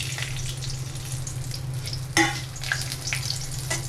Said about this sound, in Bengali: আমি ওই তেলেই এই গরম মশলাগুলো দিয়ে দিচ্ছি